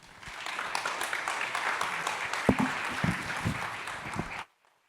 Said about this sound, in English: Let's give him one more round of applause, everybody